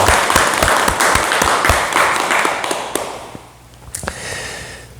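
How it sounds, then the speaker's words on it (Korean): An audience claps after a question during a Buddhist morning dharma talk, steady dense applause that tapers off toward the end with scattered final claps. "좋은 질문 해주신데 박수 부탁드립니다"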